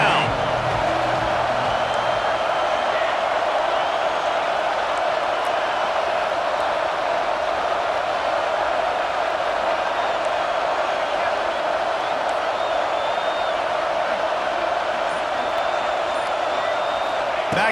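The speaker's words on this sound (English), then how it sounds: "This crowd knows this defense needs them right now." Stadium crowd noise in the EA Sports College Football 26 video game, a steady, unbroken roar from the stands rising to urge on the defense, with faint whoops within the drone.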